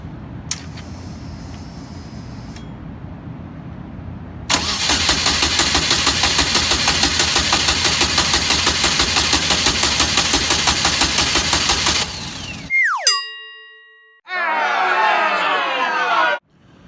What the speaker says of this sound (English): we're gonna attempt to start the car now